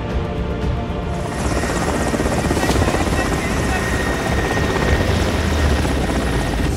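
An Air Force helicopter airlifts casualties during a full-scale aircraft emergency exercise at an airport, its rotor pounding loud and steady throughout with a dense rumbling roar.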